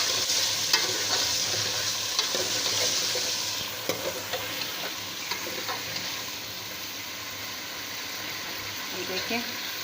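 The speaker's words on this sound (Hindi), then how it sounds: "ये देखें, ये हम भून रहे हैं गोश्त को।" Mutton frying with garam masala for chana dal gosht sizzles steadily in a pan while a large spoon stirs and scrapes, a continuous close hiss with intermittent clinks.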